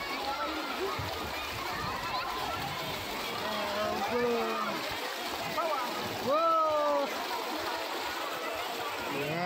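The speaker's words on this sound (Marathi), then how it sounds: "पाणी पडतं आणि मग परत ती बादली भरायला सुरुवात होते" Large tipping bucket at Krushnai Water Park near Pune dumps water onto people below, giving a burst of splashing and pouring beneath continuous shouting, cheering voices.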